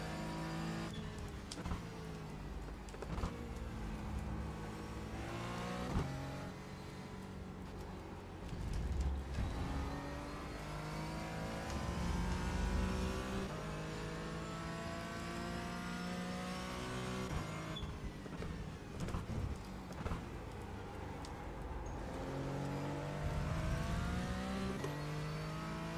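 A Porsche 718 GT4 race car in the iRacing video game, its engine revving up through the gears under hard acceleration, downshifting and pulling again in long rising sweeps, loud and continuous throughout without speech.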